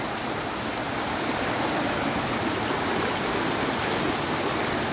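Water rushes in a loud, constant wash, like a fast-flowing stream tumbling over rocks, steady throughout with no voices.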